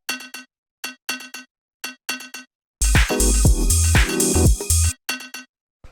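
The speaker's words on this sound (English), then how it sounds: "Then we have this little bell." Little bell sample in a house track, short bright pings in a syncopated repeating pattern, briefly joined by a full loud mix of drums and bass before the bell pattern returns alone.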